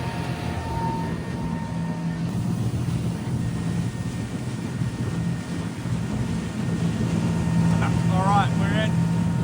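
A Fin Chaser 430t motorboat runs at about 20 knots with a steady low outboard engine drone and water rush, while someone speaks briefly over the noise.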